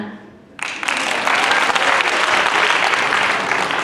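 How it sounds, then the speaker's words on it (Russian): Stormy audience applause breaks out suddenly after a song at a beauty pageant, a dense, loud wash of clapping that holds steady to the end. "бурные аплодисменты"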